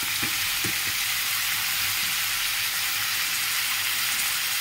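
Green chillies drop into a hot frying pan, giving a steady loud sizzle with a few light knocks of stirring early on before the hiss settles evenly.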